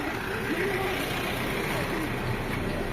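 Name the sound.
bus arriving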